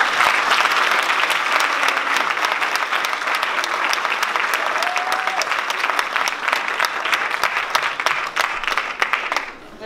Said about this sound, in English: I would just like us to give them a huge round of applause